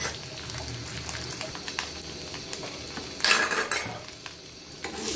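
A hilsa fish head frying crisp in hot oil, a close continuous sizzle broken by spatula scrapes and metallic pan clatter, with a louder burst of stirring partway through and no speech.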